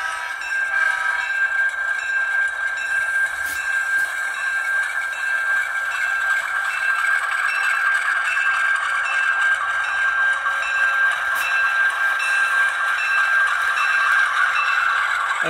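A small train rumbles steadily along the track with a continuous whirring hum, growing slightly louder as it passes by, with no voices.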